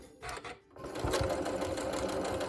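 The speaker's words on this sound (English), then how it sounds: "I'm gonna stitch that in place here. A little lock stitch, come forward." A sewing machine works a short lock stitch to fix a quilt hanging tab in place, with a brief burst, a pause, then a steady close whir.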